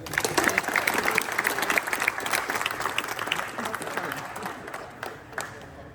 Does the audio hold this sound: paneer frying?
no